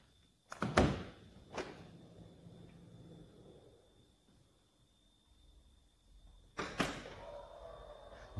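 Hyundai Staria van with an aftermarket electric side step and a sliding door, sharp mechanical thunks and clunks at the start, a low motor hum, then another loud clunk near the end, all close by.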